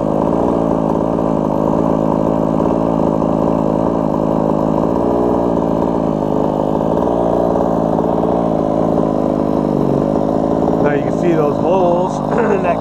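The gas engine of a Losi DBXL RC car idles steadily in a loud, continuous mid-pitched drone, with a few brief higher sounds near the end.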